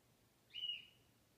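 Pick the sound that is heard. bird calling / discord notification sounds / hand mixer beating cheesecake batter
bird calling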